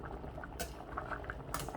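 Chicken gola kabab pulao rice boiling in an open pot after the lid comes off, soft steady bubbling and simmering with two brief sharp metallic clinks of a utensil, quiet and close.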